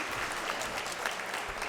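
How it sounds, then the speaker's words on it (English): A crowd applauds steadily at a fire station's grand opening ceremony, a dense, even wash of clapping that holds at the same level throughout with no voices rising above it. "let's give Chief Luke another round of applause if we can"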